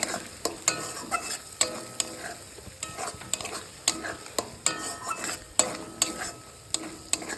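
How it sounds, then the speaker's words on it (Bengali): Masala for dhaba-style egg curry sautéing in a pan, with a steady sizzle broken by regular, sharp spatula scrapes and stirring strokes, close and moderately loud, with no voices. "ভালো করে কষে নেব"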